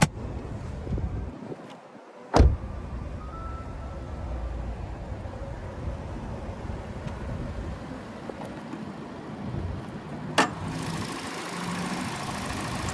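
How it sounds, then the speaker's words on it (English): A 2021 Toyota Corolla Hatchback XSE's 2-liter naturally aspirated four-cylinder engine idles with a steady, moderate hum throughout, broken by a couple of brief sharp clicks or knocks and no talking. "the 2-liter naturally aspirated 4-cylinder engine"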